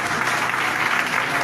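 A church congregation claps steadily to acclaim the Lord Jesus, a dense and even round of applause that fills the room without a break.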